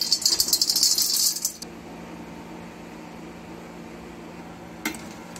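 Peanut butter Cap'n Crunch cereal pours into a giant bowl as a loud, dense rattling rush for about a second and a half, then stops, leaving quiet room tone and one small clink.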